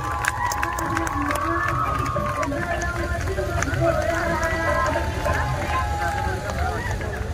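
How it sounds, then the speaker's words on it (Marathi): An audience at the JCI festival in Khed applauds and cheers together, a loud dense patter of clapping with raised voices carrying through the whole stretch. "2000 तालियां दीजिए और फोटो ले लो"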